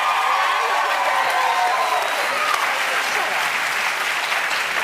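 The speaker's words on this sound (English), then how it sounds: "because they're clapping" An audience claps in a steady, dense wave of applause that holds at a constant level throughout, with a faint crowd murmur beneath.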